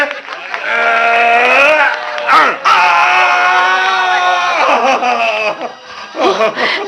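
A man screams after being struck by a tranquilliser injection thrown at a lion in a comic Hindi skit, a long, loud, wavering wail with a few breaks and other voices shouting around it.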